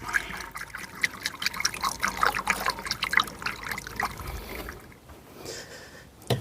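Premix coolant pours continuously into a Volvo 740 cooling system with a bubbling, trickling splash close by, easing off near the end.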